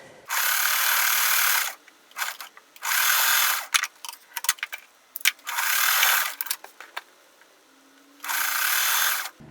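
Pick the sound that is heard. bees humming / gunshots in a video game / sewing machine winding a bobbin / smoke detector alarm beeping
sewing machine winding a bobbin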